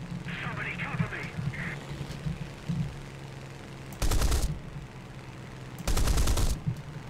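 Aircraft cannons fire in two loud sustained bursts in War Thunder, in a Siege of Malta air battle, rapid thudding rounds rising over engine drone, with someone talking faintly between bursts.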